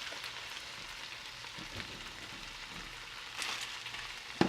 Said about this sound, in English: So you try to get the most surface area frying at the bottom.